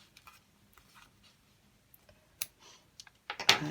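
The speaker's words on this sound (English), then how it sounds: "I'm just going to snip these off." Scissors snip loose thread ends on a sewn journal signature, a few faint close clicks and light snips spread apart over quiet, ending in a louder burst of handling noise.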